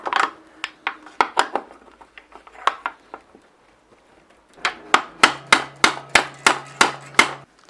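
A BB30 removal tool is hammered against a road bike's unthreaded bottom bracket, sharp metallic taps at first irregular, then a steady, louder run of evenly spaced strikes, close up with no voices.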